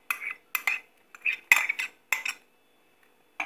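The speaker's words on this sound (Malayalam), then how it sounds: "ഇതെല്ലാം കൂടെ ഇട്ട് നന്നായിട്ട് മിക്സ് ചെയ്യണം" A spoon stirring and scraping ivy gourd and mango thoran ingredients in a pan, with ginger and garlic added, giving about six short bursts of clattering metal scrapes separated by brief silences, close and quiet, with no talking.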